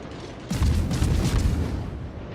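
The Yamato battleship's secondary guns firing in World of Warships, a sudden booming blast followed by a dense rumbling barrage of shots lasting a couple of seconds.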